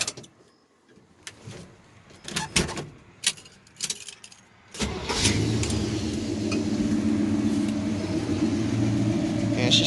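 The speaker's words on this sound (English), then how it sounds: "Guess I might as well show you the exhaust." A Chevy C10 pickup truck's engine cranks and catches after some rattling and clunking handling sounds, then settles into a steady, loud rumbling idle through the exhaust for the rest of the clip.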